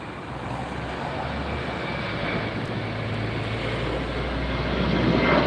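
An American Airlines airplane departing LAX sends out a broad, steady engine roar that swells louder toward the end, heard on its own without talk.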